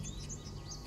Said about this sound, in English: Now I can hear the birds and the nature sounds.